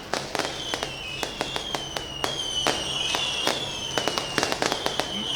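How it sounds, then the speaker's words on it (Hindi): Fireworks go off in a rapid series of sharp bangs and crackles, some loud and close, with a faint whistling tone running underneath. "शोर आतिशबाजी का खासा ज़्यादा"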